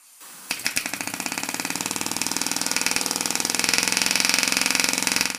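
A 3D-printed multi-cylinder air engine starts with a few separate clicks, then spins up into a fast, even, rattling chatter. It runs loud and close, climbs steadily in pace, and carries no talking.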